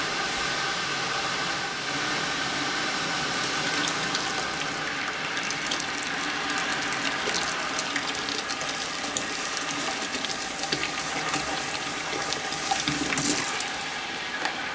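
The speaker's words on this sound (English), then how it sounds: "Now it sounds like we're coming to a boil. We got bubbles on the bottom." A pot of water heating on a stove for homebrewing an orange shandy beer, with a steady broadband hiss and rushing close up as it nears a boil, continuous throughout with a few faint clinks.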